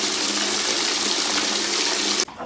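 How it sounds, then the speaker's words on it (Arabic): Water pours steadily from a shower for a cold rinse, a loud, even gushing that cuts off abruptly near the end. "دابا بنمشيو ونضربوها بشي جويشه بارده"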